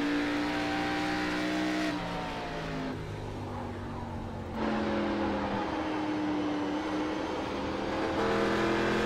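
Race car engine in the iRacing game, an ARCA car at New Hampshire, holding a steady high-revving drone with no gear shifts, the pitch sagging and climbing as it laps, loud and continuous throughout.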